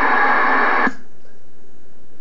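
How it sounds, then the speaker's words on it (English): A radio transmitter dead keys, putting out a loud, steady unmodulated carrier hiss that cuts off sharply just under a second in, leaving only faint low background noise. "There's a nice big monster dead key for you."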